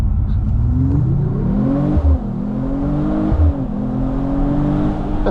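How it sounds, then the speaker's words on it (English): A 2025 Mercedes-AMG CLE 53 Cabriolet launches with its race start function, the engine revving loudly and climbing in pitch through two quick upshifts, heard close and alone. "I love the awesome Mercedes race start function"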